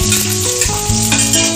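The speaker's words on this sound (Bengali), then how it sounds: "এটা গরম হয়ে গেছে, তো এতে এবারে আমরা পেঁয়াজগুলো দিয়ে দিচ্ছি।" Sliced onions hit hot mustard oil in a kadai for an egg curry, giving a loud, close, busy sizzle with stirring scrapes throughout.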